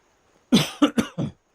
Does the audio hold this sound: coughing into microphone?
yes